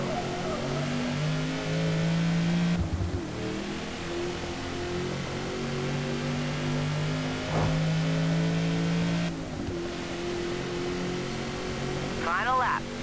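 A powerful Australian classic car's engine in Forza Motorsport, holding a steady droning rev with pitch shifts and brief gear-change dips during a race, loud and continuous with a voice talking over it.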